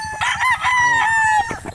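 A Red Kelso rooster crows once up close, a loud, clear, drawn-out cock-a-doodle-doo lasting over a second, with no talk.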